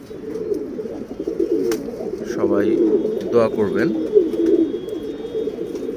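Tournament pigeon chicks coo in low, throaty bursts while someone talks over them, the cooing moderately loud and recurring through the stretch.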